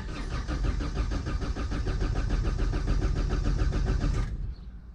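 A 1992 Opel Corsa, raised on jack stands, starts with loud, rhythmic, close engine pulses that run for about four seconds before cutting off abruptly.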